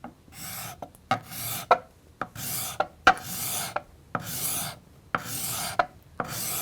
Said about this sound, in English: As I'm going forward, I'm going to start tipping the card scraper so I find the actual cutting angle.